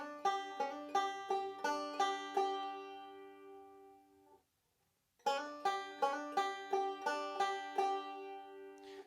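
A banjo plays a partial chord with a hammer-on in a roll, bright plucked notes in a quick even pattern that stops, falls silent briefly, then repeats, played alone and clear.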